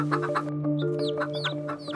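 Chickens cluck and squawk nearby in short repeated calls over a steady low hum.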